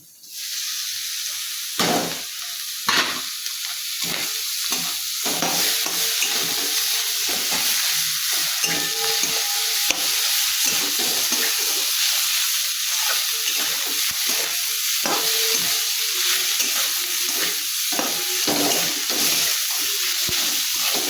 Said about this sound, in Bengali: আমার মশলা কষানো হয়ে গেছে এর মধ্যে আমি এই যে খাসির ভুটিটা দিয়ে দিচ্ছি